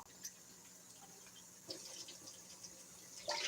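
Tap water runs steadily into a container in a home kitchen, a faint continuous trickle with a few brighter splashes near the end.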